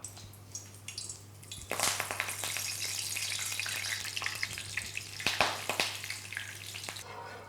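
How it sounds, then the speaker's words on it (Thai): Chinese celery leaves frying in hot oil over lowered heat, a steady crackling sizzle that bursts louder after the first couple of seconds with sharp pops and spatters, close by and alone without voices. "ผมทอดขึ้นช่ายไว้เล็กน้อยนะครับ เพื่อ เอาไว้ใช้สำหรับแต่งจานครับ"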